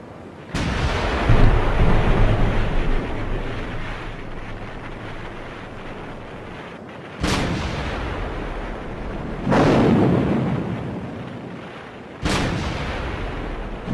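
The World War II naval bombardment of Iwo Jima sounds as heavy artillery shells and rockets: several deep booms, each rising suddenly out of a constant windy rumble and rolling on for seconds, without speech.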